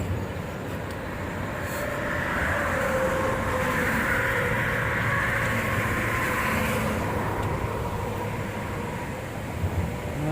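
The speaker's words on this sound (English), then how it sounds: "Not used to all this traffic." Traffic on a busy road heard from a trail above a river, a continuous broad rumble of passing vehicles that swells and eases over several seconds, fairly loud and steady with no talking.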